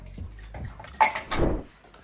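Dishes and cups are handled at a table, with a few light clinks and scrapes and a brighter knock near the middle, heard close and fairly quiet.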